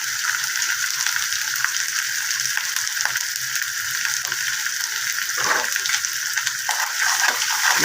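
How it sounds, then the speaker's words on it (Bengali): Masala with turmeric frying steadily in a pan while egg garlic dum is cooked, giving a continuous dense sizzle with scattered scraping clicks, close and even in loudness, with no talk. "এবার মশলাটাকে কষিয়ে নেব।"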